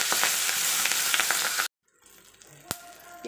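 Curry leaves hit hot oil with popped mustard seeds and split chickpeas, giving a loud crackling sizzle that cuts off abruptly, then a quieter, sparser hiss with a single sharp clink.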